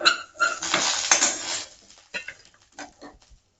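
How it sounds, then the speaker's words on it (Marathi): Hot roasted chillies pounded in a stone mortar and pestle, a dense flurry of close, hard knocks at first, then a few sparse separate strikes before fading. "आता ह्या गरम गरमच कुटायला घेते आता मी इथे वाटून घेण्यासाठी एक खलबत्ता घेतलेला आहे"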